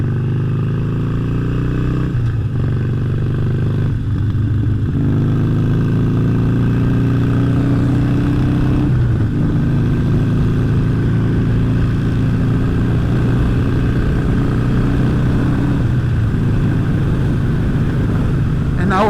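A V8 car engine cruises on a motorway with the exhaust open, a loud, continuous drone whose pitch climbs and shifts through repeated accelerations, with a few brief dips as gears change.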